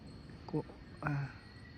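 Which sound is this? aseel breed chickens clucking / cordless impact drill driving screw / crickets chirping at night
crickets chirping at night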